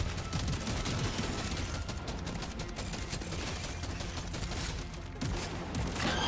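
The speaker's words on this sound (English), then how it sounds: "shotgun doing some work" Shotgun fire in Deep Rock Galactic, with rapid, dense gunshots and impacts packed into a steady, loud barrage that runs through the whole stretch of game noise.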